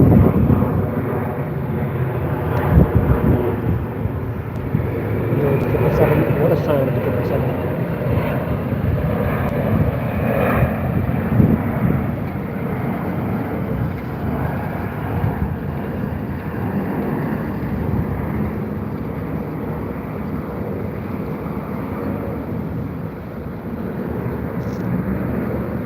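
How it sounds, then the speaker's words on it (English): A Boeing 777 airliner comes in to land at Heathrow with its wheels down, a sustained loud engine rumble with wind buffeting on the microphone, continuous for over twenty seconds and without talk. "Wheels are out, is about to land on Heathrow."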